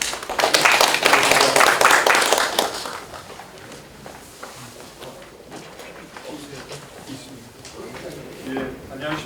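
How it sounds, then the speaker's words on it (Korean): Audience clapping to welcome a presenter at an emergency roundtable on the horse racing industry, strong for about three seconds then fading to scattered claps and room noise. "우리 발표자를 박수로 맞이해 주십시오"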